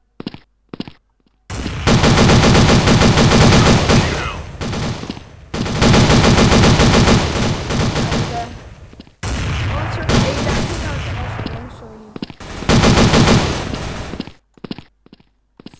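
Rifle gunfire in the First Blood game, loud sustained bursts of rapid automatic fire in several long volleys separated by short pauses, close and dense, with faint talk between volleys.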